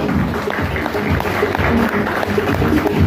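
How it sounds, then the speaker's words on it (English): An award-ceremony audience applauds at a prize distribution for a betta fish competition at an ornamental fish expo, a dense, steady wash of clapping filling the room loudly and continuously throughout. "Can we have a round of applause?"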